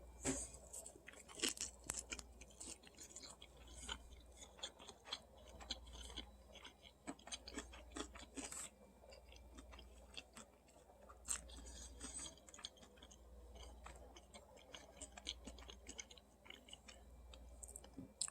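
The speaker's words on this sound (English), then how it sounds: "I'm currently having some of a family crunchy roll pack of sushi" Close, quiet chewing with soft crunches and clicks, repeating irregularly for a long stretch, with no talking.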